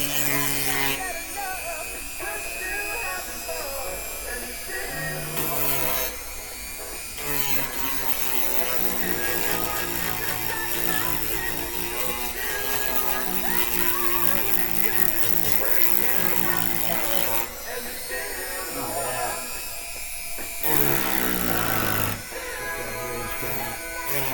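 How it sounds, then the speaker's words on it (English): A power sander working over the body of a Mustang, a loud continuous whirring buzz that pauses briefly a few times as the tool is lifted and restarted. "Now I can sand that easier"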